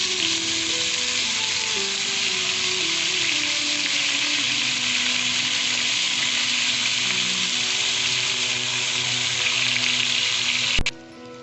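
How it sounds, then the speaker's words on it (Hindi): Chicken pieces for karahi fry with black peppercorns in hot oil, a loud, steady, dense sizzle that runs unbroken, ending with a brief clank near the close; no one speaks. "अब हम इसमें चिकन के पीसेस डालना शुरू करेंगे।"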